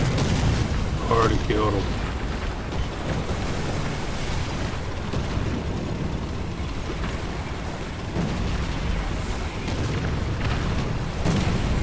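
Artillery strike explosions in War Thunder during a tier-one Panzer II Ausf. C light tank match: rumbling booms and bursts over a steady low engine roar, with a brief spoken remark early on.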